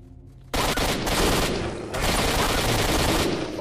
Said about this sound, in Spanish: Varios tiros, nadie está herido.